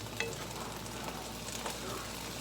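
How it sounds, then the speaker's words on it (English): A soft, continuous sizzle of onions and peppers frying in a pan, with faint stirring scrapes that are fairly quiet throughout. "so we're gonna stir it together, and we're gonna be very careful, right? What am I cooking? It's onions and peppers."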